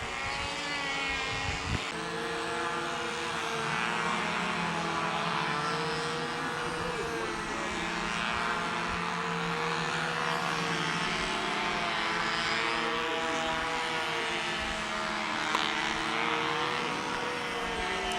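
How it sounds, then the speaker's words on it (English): Eight model aircraft engines run together for a squadron-style takeoff, a continuous, loud, high buzzing drone of overlapping propellers that holds steady with slight wavering pitch throughout. "So we're going to be treated to the sound of 8 synchronous engines at once"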